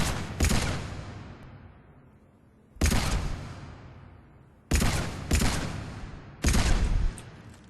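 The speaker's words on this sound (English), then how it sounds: "It's got decent kick for a pistol. So here we go, 6 shots." Carnifex heavy pistol firing in Mass Effect 3, four loud, sharp reports with long decaying echo tails, spaced irregularly with gaps of one to two seconds, no talking.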